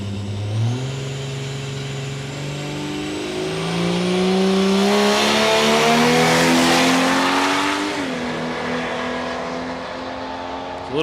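Ford AU Falcon and a Cortina drag racing at Palmyra Raceway, engines revving hard with rising gear pulls, loud and close, swelling to a roaring peak midway before easing, with a brief tire squeal.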